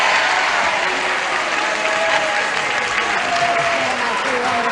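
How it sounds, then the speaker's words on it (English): Steady, loud applause from a game show studio audience on Match Game, continuous clapping filling the whole stretch with light crowd murmur underneath. "Okay, old Bob's up after all that applause again"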